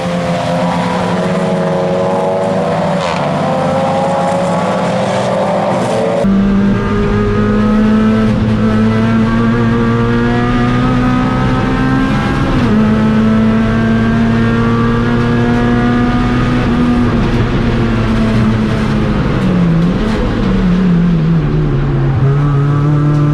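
Race cars run a circuit during a 750 Motor Club enduro at Oulton Park, engines droning loud and near with shifting pitch as they accelerate and pass, a continuous roar of several cars at once.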